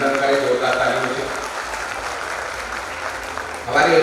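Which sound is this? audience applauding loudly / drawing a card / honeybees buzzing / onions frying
audience applauding loudly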